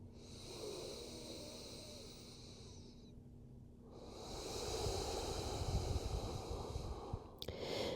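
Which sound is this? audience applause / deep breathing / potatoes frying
deep breathing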